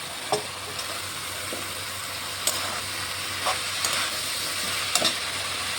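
Bakphul flowers fry with spice paste in a pan, giving a steady hiss. A spatula clinks and scrapes now and then at irregular intervals, and no talking is heard.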